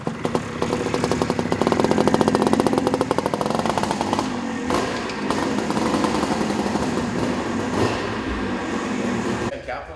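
A 1982 Suzuki PE175 dirt bike engine runs close by, a loud buzzing two-stroke drone with rapid pulsing that swells in the first seconds, then settles into a steadier idle-like rumble with small throttle changes.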